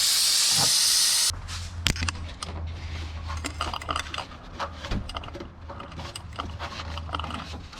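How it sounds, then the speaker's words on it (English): A loud, steady hiss from a spray paint can laying down Phantom Gray paint, close and brief, followed by rattling, clicking handling noises. "Alright, so spray this. This is Phantom Gray"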